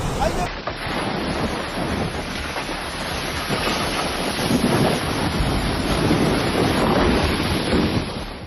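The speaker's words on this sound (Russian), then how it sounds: "Мальта оказалась во власти мощного средиземноморского шторма Гарри, который принес на архипелаг разрушительные ветры, экстремально высокие волны и масштабный штормовой нагон" Mediterranean storm Harry hits the Malta coast: heavy surf crashes and churns under strong gusting wind that buffets the microphone, a loud, continuous roar that swells in the second half.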